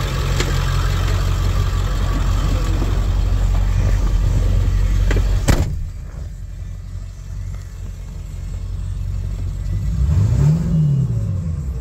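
A lifted 1999 Ford F250 Lariat 4x4 with a 7.3L diesel engine idles with a deep, loud rumble, then a strong rev climbs and falls back to idle near the end.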